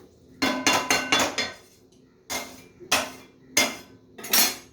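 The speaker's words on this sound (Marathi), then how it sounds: "एक छोटा चम्मच घेऊन चमचच्या साह्याने आता आपण याच्यामध्ये पाक पाकवतोया" A small metal spoon striking and scraping in a pan of sugar syrup, loud clinking bursts in quick clusters with short pauses between, close by.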